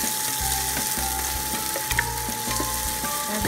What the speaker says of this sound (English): Saute the collard greens for about like 7 minutes but do not overcook it